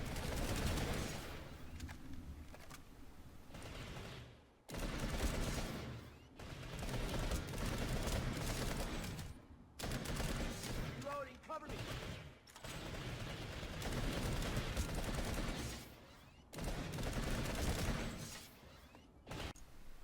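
Sustained bursts of automatic weapon fire from PlanetSide 2 rattle in long, dense volleys that stop briefly and then resume, loud and close, with no voices over them.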